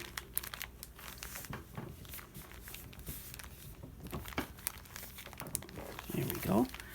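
A paper bag being folded, with close crinkling and rustling throughout and louder crumpling toward the end, under a person speaking.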